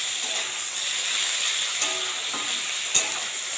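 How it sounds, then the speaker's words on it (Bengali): Taro stolons (kochur loti) fry with salt and turmeric in a pan, giving a steady, close sizzling hiss with a faint click or two of stirring and no voices. "কচুরলতাটাও কিন্তু ভালো করে ভাজি নিন।"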